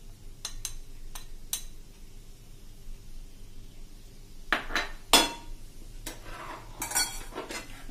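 A spoon mixes a dry spice blend of coriander powder and dried mango powder in a bowl for Punjabi samosa filling, giving sparse metallic clinks and scrapes that cluster toward the end over a quiet hiss.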